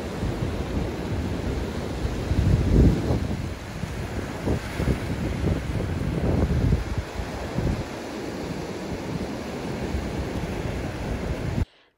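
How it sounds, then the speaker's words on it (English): Ocean surf breaking at the shore on a chilly Thanksgiving day, a steady roar of waves with strong wind buffeting the microphone, loud and continuous throughout with no talking. "A little bit of surf on Thanksgiving."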